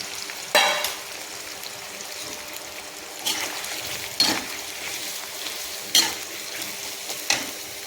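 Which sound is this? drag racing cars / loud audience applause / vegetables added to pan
vegetables added to pan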